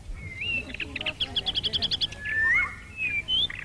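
A weaver bird calls with a run of rapid, bright chirps followed by rising whistled notes, fairly close and clear over a faint low background.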